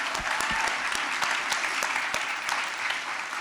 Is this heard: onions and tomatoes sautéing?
no